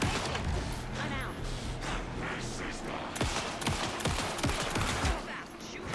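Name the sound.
gunfire in the video game Alan Wake 2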